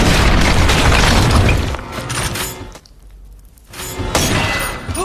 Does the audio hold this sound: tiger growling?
no